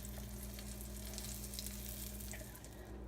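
Glamorgan sausages frying in a pan give off a soft, even sizzle that holds steady throughout, faint and continuous under a low background hum.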